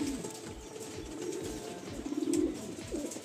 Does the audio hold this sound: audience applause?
no